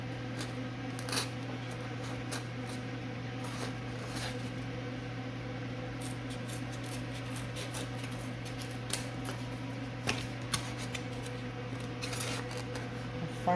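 Scissors snipping through cured silicone mold material, a series of faint, irregular clicks and cuts over a steady background hum, close by but quiet.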